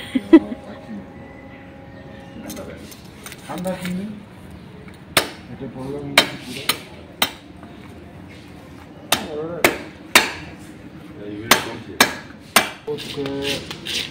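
A heavy blade chops through a large two-kilogram live catla fish, sharp isolated thwacks coming singly and in quick clusters, close and loud, with people talking quietly between the strikes.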